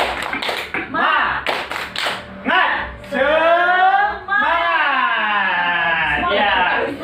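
A group of mothers and children claps the rhythmic Indonesian tepuk semangat spirit clap, with sharp bursts of claps in patterned groups at the start before loud voices chant and talk.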